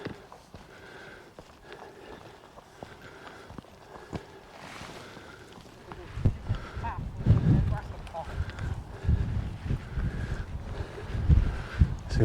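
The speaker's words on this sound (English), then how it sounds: "quite blustery wind." Blustery wind on an open fell summit above Bassenthwaite in the Lake District, rumbling and buffeting the microphone in gusts that strengthen partway through, with footsteps and faint talk underneath.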